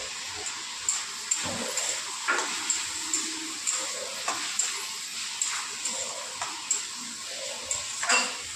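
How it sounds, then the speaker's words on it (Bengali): Vegetables being stirred in a pan after salt and turmeric go in, with soft repeated scraping and light ticks of the spoon against the pan over a faint steady sizzle, close and moderately quiet. "ভালো করে মিশিয়ে নিলাম"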